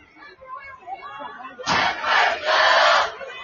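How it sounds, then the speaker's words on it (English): A high school football crowd cheering for Del Oro during a game against Oak Ridge, a loud roar that bursts in after quiet chatter and swells in waves, with an announcer's voice underneath. "Del Oro crowd trying to get"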